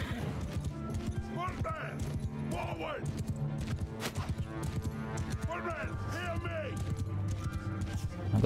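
Cavalry horses gallop and clatter in a Mount & Blade II: Bannerlord battle, a steady drumming of hooves with whinnies rising over a dense battle mix, while someone talks throughout.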